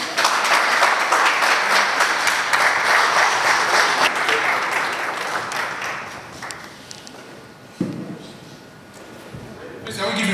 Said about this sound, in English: Please, I will give you a round of applause.